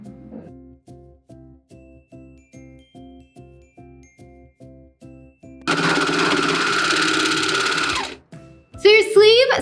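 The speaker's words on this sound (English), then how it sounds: "I like to serge a little and then line up." A serger overlocker stitching a sweatshirt sleeve seam into the armhole, first in a rapid run of evenly spaced short mechanical bursts, then one sustained loud whirring run lasting a few seconds, followed by a brief burst of talk.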